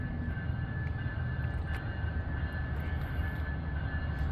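Amtrak 91 passenger train led by a Charger locomotive approaches, its steady low rumble filling the scene at moderate loudness with a faint high tone riding above, no talk.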